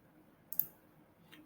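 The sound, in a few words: computer mouse click on Run button in SAS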